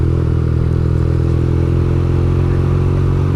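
A BMW R NineT with an oil-head boxer engine of 110 horsepower runs steadily close by, a loud, even, throbbing idle with a mechanical clatter and no talk over it.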